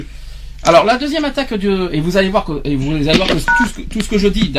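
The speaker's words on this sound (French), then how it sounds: "ça c'est un téléphone" Telephone dialing tones beep under someone speaking French, the tones sitting clearly in the foreground while his talk carries on throughout.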